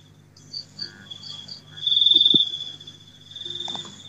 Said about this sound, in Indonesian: Anda masuk hanya untuk mendengarkan suara jangkrik aja